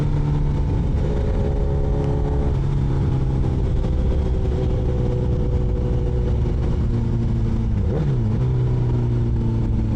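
Steady vehicle engine drone on a busy road, heard from a motorcycle, with a continuous low hum and a brief pitch dip partway through as traffic flows around, no talking.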